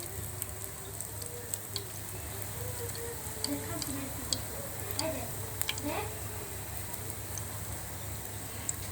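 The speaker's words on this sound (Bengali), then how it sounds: "এখানে আমি কিছুটা বড়া দিয়ে দিয়েছি এখন আমি নিচের সাইডটাকে আগে লাল করে ভেজে নেব" Lentil and onion fritters (peyaju) fry in hot oil with a steady, bright sizzle, dotted with sharp pops and crackles throughout.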